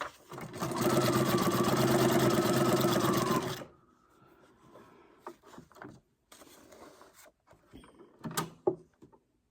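A sewing machine stitches a zigzag on paper, a loud, fast, even whir lasting a few seconds before it stops, then followed by quieter clicks, handling knocks and faint rustling.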